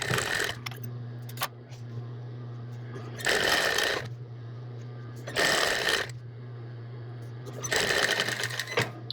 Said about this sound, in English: we can go ahead and back stitch, work our way up to the top